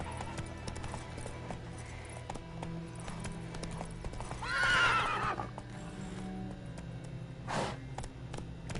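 Roach the horse in The Witcher 3 walks with steady clip-clop hoofbeats, and a loud neigh rises midway, followed by a shorter snort or whinny near the end, all over a low game ambience.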